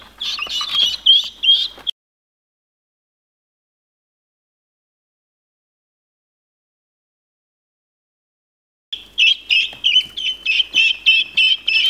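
A brood of baby guinea fowl chicks and quail gives rapid, high-pitched peeping and cheeping in two short spells, separated by about seven seconds of silence.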